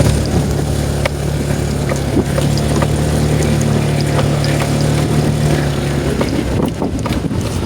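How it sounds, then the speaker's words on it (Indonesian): A motorbike engine labours uphill on a mountain trail through durian forest on Mount Argopuro, its loud, steady drone holding close to the microphone with wind buffeting over it. "Gak kuat motornya teman saya."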